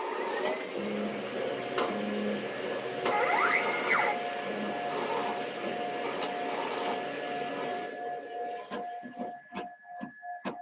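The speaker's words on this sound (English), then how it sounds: "I'd like to give you a live printing demo" An Eddie cookie printer prints live, giving a steady mechanical whir with rising motor sweeps, faint tones and rhythmic carriage movement, then a run of sharp clicks and ratcheting ticks as the mechanism shifts cookies.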